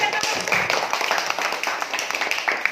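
A school class claps hands together during an Indonesian maths lesson, a short run of quick, close, fairly loud claps with a faint voice underneath.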